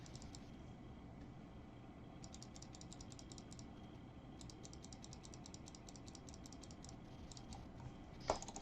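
Rapid bursts of mouse clicking in a game editor's boss fight, faint and dense against a steady background hum, coming in clustered runs with short pauses between them.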